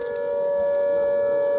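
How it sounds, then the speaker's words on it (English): A warning siren wails as a single steady, loud sustained tone that holds without a break, sounding against the threat of attack in Ukraine. "The warning sirens sound."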